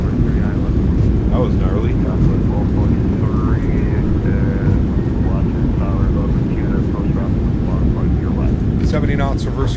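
A simulated American Airlines 737-800 landing in Washington DC, with reverse thrust producing a loud, dense, continuous roar throughout, while a voice speaks briefly over it.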